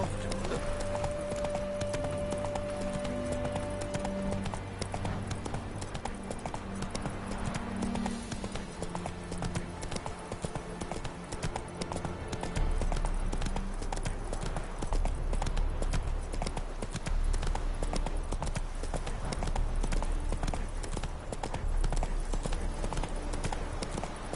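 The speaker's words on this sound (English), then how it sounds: "Whoa there, Roach." Horse hooves gallop in The Witcher 3, a steady clip-clop rhythm running throughout, close and fairly loud over game music and ambience.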